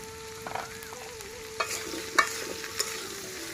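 Eggplant frying with onions, salt and turmeric in a pan, a soft low sizzle broken by a few light clicks and scrapes of stirring, no talk.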